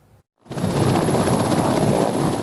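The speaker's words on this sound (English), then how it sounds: "One of the biggest waterbombing helicopters in the world has landed in Brisbane" A large Mil-8 MTV waterbombing helicopter roars steadily at close range, its dense engine and rotor noise starting abruptly after a brief moment of quiet.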